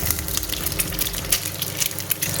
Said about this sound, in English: Just lightly fry the eggs until it gives a nice golden brown coating.